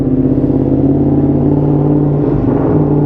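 A BMW race motorcycle engine runs up close, loud and continuous, with a deep rumble and a faint mechanical clatter that stays constant, with only a brief dip near the end and no speech.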